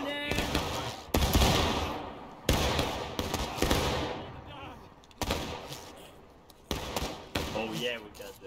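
Independent musket fire in the Civil War game War of Rights cracks out as a ragged string of loud shots at uneven intervals, some close and some more distant, while voices talk between the reports.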